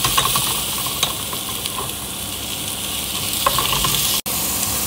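Minced pork frying in a hot pan gives a steady, loud sizzle with a few faint clicks, and it drops out for a moment near the end. No voices.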